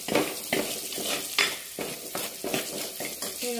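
Sliced green chilies sauté in a hot pan for a Kerala-style prawn roast, with steady sizzling broken by regular scraping stirs roughly every half second, close and fairly loud.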